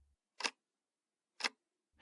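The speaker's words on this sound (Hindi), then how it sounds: "घड़ी की टिक टिक की आवाज कमरे में गूंज रही है।" A clock ticks steadily in a silent flat at night with heavy rain outside, sharp isolated clicks roughly a second apart with near silence between them.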